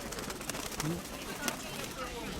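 Pigeons at a market fair give soft, low coos among background chatter from nearby people, with a couple of short calls standing out over the steady crowd noise.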